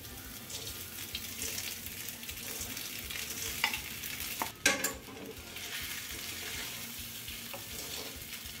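Sago khichdi being stirred and sautéed in a pan over a low to medium flame, a steady soft sizzle with a few scraping spoon strokes, close and alone without any talk.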